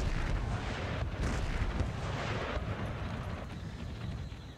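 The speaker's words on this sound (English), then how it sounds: "howitzers that are firing quick climb" Howitzer artillery in Empire Total War fires in a heavy, rolling barrage, deep booms and blasts overlapping into a sustained roar that slowly eases toward the end, with no voices.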